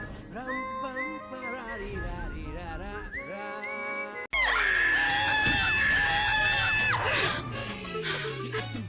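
Several people scream together in loud, sustained, high-pitched shrieks that rise and fall, with a sharp break midway before an even louder burst of screaming follows.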